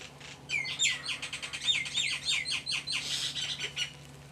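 Birds chirping and singing outdoors in rapid bright trills and repeated whistled phrases, fairly close and lively for several seconds, with no voices over them.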